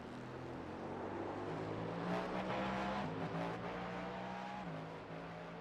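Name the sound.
race car engine in iRacing video game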